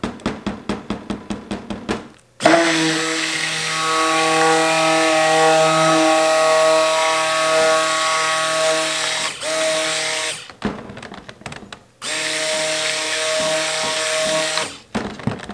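A small blender runs on soap batter mixed with lye solution, giving a loud, steady motor whine that cuts off briefly twice, after opening with a few short pulsed bursts.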